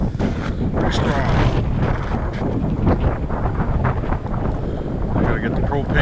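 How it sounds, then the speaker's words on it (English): Strong wind buffets the microphone on open snowy ground, a loud continuous roaring rumble with gusting swells, and indistinct speech is partly audible under it. "That wind is pretty strong."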